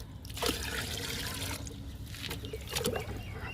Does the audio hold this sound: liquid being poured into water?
yes